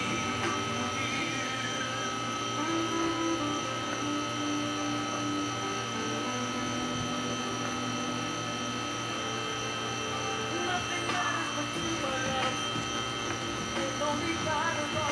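A "silent" air compressor runs steadily while building pressure toward about 125, a constant low motor hum with tonal whine and faint mechanical rattle, unbroken and moderately quiet.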